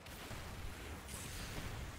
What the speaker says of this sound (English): Losing majority of my health to these explosions, molotovs, whatever they're throwing at me.